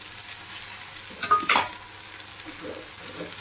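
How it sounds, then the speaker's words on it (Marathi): Chili powder masala sautés in a pan, with a faint ongoing sizzle broken by a quick cluster of spoon clinks and scrapes against the metal, then light stirring noises. "त्याच्यानंतर हे थोडंसं परतून घेते याला"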